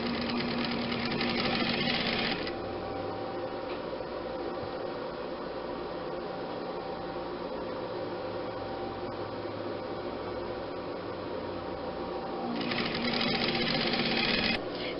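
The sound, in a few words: sewing machine stitching pillowcase fabric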